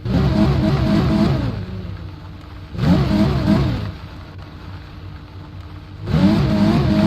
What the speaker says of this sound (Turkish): Araba çok bağırıyor ya.